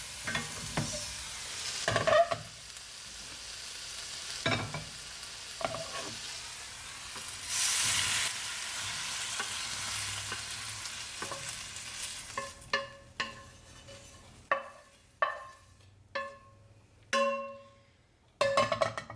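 Stir fry sizzles steadily in a hot pan, then a run of sharp, rhythmic tossing clatters and scrapes follows near the end, close and fairly loud with no talking.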